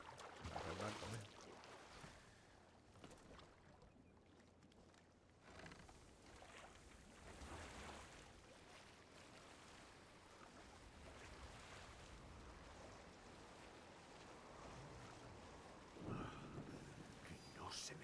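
Boat moving over water in Assassin's Creed Shadows, faint waves washing and wind noise rolling steadily throughout, with a louder splash at the start and near the end.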